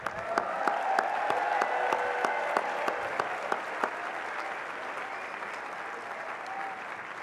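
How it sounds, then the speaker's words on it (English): Audience at a college commencement ceremony applauding the graduating class, a broad crowd of clapping with crisp rhythmic claps up front that thin out and soften over time. "you can give them a round of applause"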